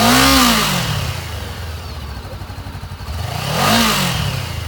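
A used 2014 Honda CBR500R, a fuel-injected, liquid-cooled 500 cc sport twin, revs loudly near the start, settles into a steady idle, then revs up again before idling once more. Close and alone, with no talk.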